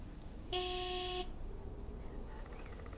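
A single sustained honk from a big white wobbly delivery truck's horn in the video game Lake, sounding close and loud for under a second over quiet ambient background.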